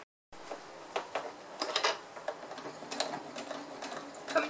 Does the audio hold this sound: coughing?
no